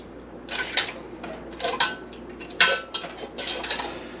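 Metal canning jar seal lids clink and clatter together in a home kitchen while chicken is being canned, several irregular close bright chinks scattered over a few seconds.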